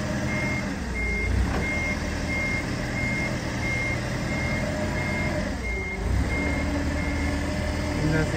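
A mini truck strains uphill pulling a large gooseneck trailer, its engine droning steadily and loud throughout, with repeating beeps and a voice talking over the noise.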